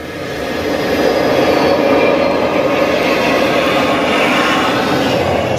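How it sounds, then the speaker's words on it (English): A deep, loud jet-engine roar plays through an IMAX-style cinema surround system, swelling in over the first second and then holding a steady, dense rumble to the end. "We can take you from a pin drop to the thunder of a jet engine."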